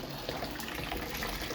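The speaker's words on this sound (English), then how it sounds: "I'm just putting some nice hot water" Hot water runs steadily from a tap into a container, a continuous close gushing rush with no talking over it.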